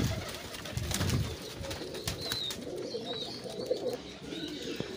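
Pigeons coo softly in a breeder loft, low repeated coos layered with occasional chirps and rustling, fairly quiet and close, with no talking.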